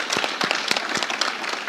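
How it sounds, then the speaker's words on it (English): An audience at a live Gen Z church-and-state election discussion event applauds, a steady wash of many hands clapping close and fairly loud throughout, with no voices over it. "Please clap for yourself"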